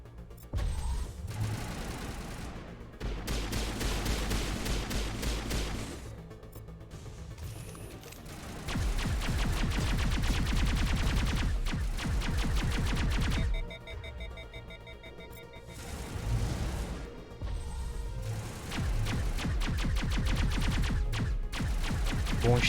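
Rapid bursts of gunfire in Mass Effect, sustained automatic firing in several long volleys separated by brief pauses, with clattering mechanical effects.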